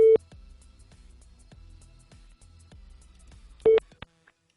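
Telephone tones for a prank call: a few clear electronic beeps and tone bursts on the line with quiet gaps between them, then a short, sharper beep near the end, with no talking.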